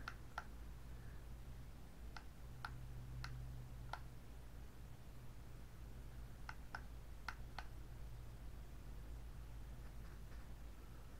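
Crisp clicks from the switch of an Anekim tactical hunting light, several sharp single clicks in two small clusters, close and faint over a steady low background hum, with no talking.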